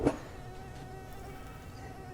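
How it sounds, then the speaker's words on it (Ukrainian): Released mosquitoes fly about, producing a faint, continuous high whine after a brief soft knock at the start. "Випускаємо комарів, Так. полетіли."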